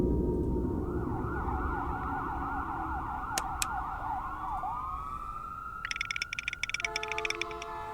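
An emergency siren wails with a rapid oscillating yelp, then shifts to a sustained tone as sharp chirping electronic bursts join near the end.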